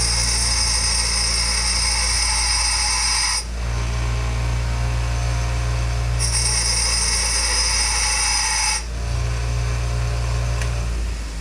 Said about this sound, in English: I'm going to take and grind it a little bit there and a little bit there to taper it.